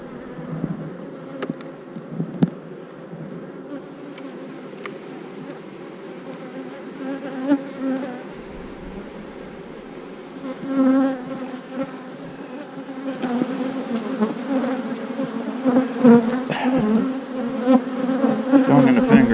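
Honeybees drone in a steady, close buzz around an opened hive during backyard beekeeping, growing denser and louder toward the end.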